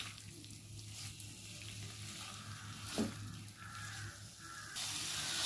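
Fried potatoes are stirred into spice masala in a pan for a prawn dish, giving a soft, fairly faint sizzle with a brief scrape of stirring partway through.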